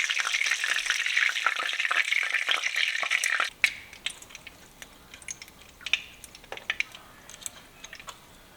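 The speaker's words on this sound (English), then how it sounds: "I'll let that cook, and if it's good, I'll fry the rest up." Italian meatballs fry in a pan, a dense, steady sizzle for the first few seconds that then drops away to sparse clicks and scrapes.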